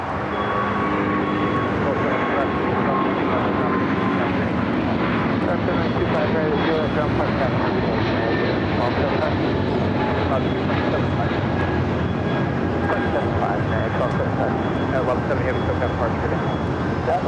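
A Hawaiian Airlines airliner at LAX passes with a steady, fairly loud jet roar for the whole stretch, with radio chatter and voices talking underneath.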